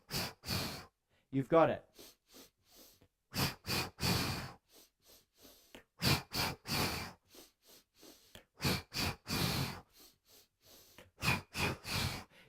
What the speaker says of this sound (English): 3-part inhale, 3-part exhale, 3-part inhale, 3-part exhale.